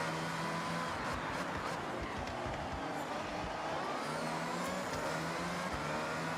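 A car engine revs hard in the Forza Horizon 6 racing game with a loud, continuous roar, its pitch rising and falling, with no talking over it.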